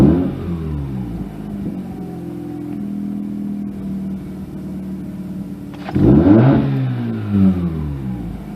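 A Mazda RX-8 rotary engine idles with a steady, throaty hum, then revs up briefly and settles back down, close and loud.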